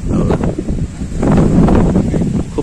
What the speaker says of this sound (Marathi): खूप असा मस्त असा वारा सुटलेला आहे